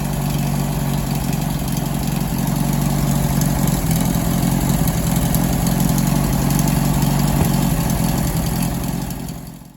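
An air-cooled VW engine idles steadily while warming up with its cooling flaps closed, a close, continuous low rumble with an even mechanical chatter that holds without change for almost ten seconds.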